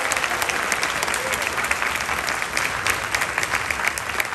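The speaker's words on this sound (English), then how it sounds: "Let's give jazz band director Miss Nikki Horner a round of applause for all her hard work." Steady, moderately distant applause from an audience in a high school auditorium after a community jazz band concert, an even wash of many hands clapping with no talking.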